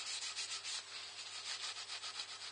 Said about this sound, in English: if you rub Hampshire Sheen into it